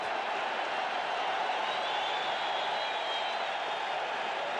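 A baseball crowd at a Seattle Mariners at New York Yankees game cheering on pitcher Dwight Gooden, a steady, distant roar of many voices filling the stadium without pause.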